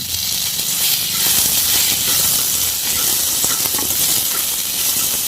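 Ginger and small onions hit a hot pan, giving a loud, continuous hissing sizzle with scattered crackles throughout.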